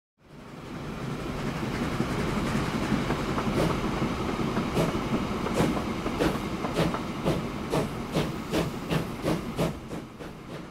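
Trains in the railway-building game Train Fever roll along with a steady rumble and a run of regular clickety-clack beats from the wheels, moderately loud and without speech.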